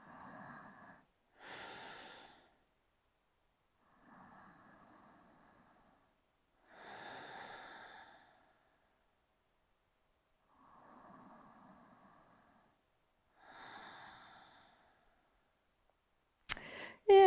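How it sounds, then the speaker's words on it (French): Slow, deep yoga breathing held in a pose: about three full inhale-exhale cycles, soft and close, each breath separated by quiet, with a sharp click at the very end. "On respire, on prend 3 profondes respirations ici."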